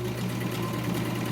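A SewMor 606 sewing machine runs steadily on a longer stitch length, a continuous close mechanical whir with a low hum and fast rhythmic ticking, heard alone without any voices.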